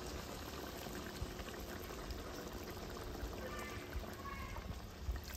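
Water poured into a pot of simmering Hassa curry on the stove, a continuous soft bubbling, hissing wash of liquid, fairly quiet and steady with no talking.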